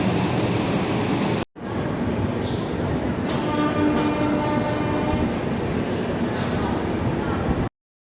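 A double decker express from Chennai toward Bangalore, hauled by WP7 locomotive 30320, rumbles steadily with a continuous rolling roar and faint wheel clatter heard from on board, cut by a brief dropout early on.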